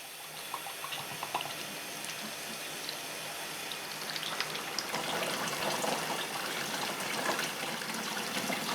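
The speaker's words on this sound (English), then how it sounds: "And add some more cold water." Cold tap water runs into a Good Ideas twin tub washing machine holding clothes, a soft steady trickle and splash that grows slightly fuller toward the end, with no voices.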